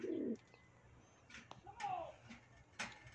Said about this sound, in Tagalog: Dito muna tayo tutok sa mga kalapati natin.